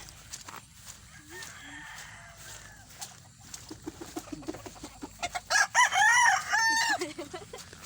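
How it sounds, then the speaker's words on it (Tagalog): Chickens cluck and a rooster crows, with several loud crowing calls close by near the end after softer clucks and scattered noises in an outdoor yard. "aming mga manok. Nagharapo na sila."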